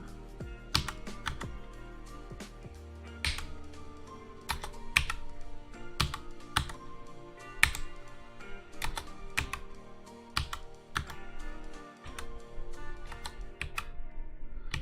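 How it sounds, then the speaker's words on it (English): Steady computer keyboard typing with many sharp clicks in irregular bursts, close and clear, continuing throughout with no voices over a low background hum. "Sorry about the keyboard clicks."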